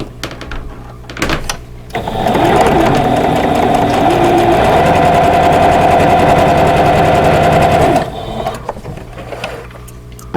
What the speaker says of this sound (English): And then sew on the rectangle.